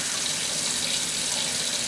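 Steady tap water runs into a kitchen rinsing sink while washing dishes, a continuous close hiss and splash that stays even and unbroken throughout, with no talking.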